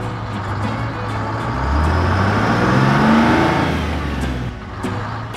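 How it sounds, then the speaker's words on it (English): A concrete mixer truck's engine revs up and rises in pitch, holding a loud, close drone before easing back down toward the end. "Mixer truck."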